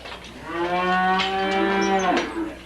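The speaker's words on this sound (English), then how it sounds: "Jay Carter and his father before him have raised dairy cattle here in Hickory in Washington County for 70 years" Dairy cattle on a farm in Hickory, Washington County: a single long, clear moo swells and fades, close and alone with faint background.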